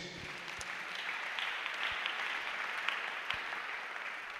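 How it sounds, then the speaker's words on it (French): Church congregation applauding to acclaim Jesus during a sermon, a steady wash of clapping hands with a few sharper individual claps, moderately loud and continuous, with no voices on top. "Acclamons Jésus"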